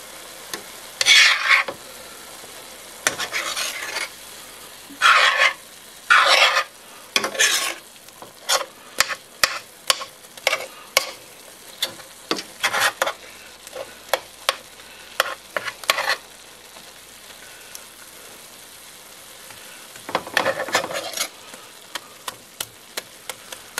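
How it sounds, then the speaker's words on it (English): Turkey sizzling in a pan as it gets stirred: bursts of metal scraping and clinking come in uneven clusters over a faint frying hiss, close and fairly loud, with no talking. "We'll stir this up."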